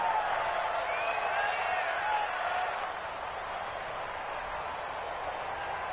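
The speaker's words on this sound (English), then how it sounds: "The crowd here in the Dome making things difficult." Stadium crowd noise inside a domed arena in a PS4 football video game: a steady, loud roar of many voices that holds at one level and dips slightly partway through.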